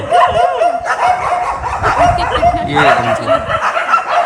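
Dogs bark and yip repeatedly at close range while people talk loudly over them, the barking continuing throughout.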